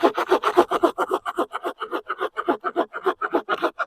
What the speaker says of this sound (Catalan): No recomano tallar llenya seca en aquest tipus de serruts.